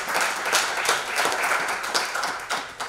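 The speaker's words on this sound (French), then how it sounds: "We can clap our hands so the Lord." A church congregation claps hands together in a steady, rhythmic stream of many overlapping claps, fairly loud and close, with a faint murmur of voices underneath.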